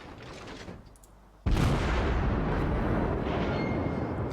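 Naval gunfire in a warship video game: a heavy, sudden boom erupts and strikes the hull, followed by a loud, sustained rumbling roar of impact and debris.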